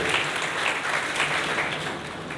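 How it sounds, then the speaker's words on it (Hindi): An audience in a coaching class applauds a student selected in NEET, producing a continuous, even patter of many hands clapping at moderate volume that carries on without any voices over it. "तो तालियां बजाइए इसके लिए।"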